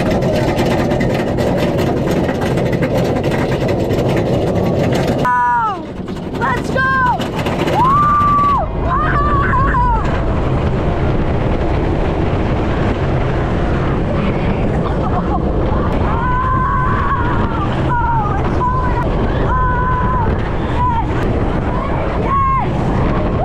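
Riding the Iron Gwazi roller coaster at Busch Gardens Tampa: loud continuous wind rush and rumbling track roar throughout, with screams and shouts rising over the noise.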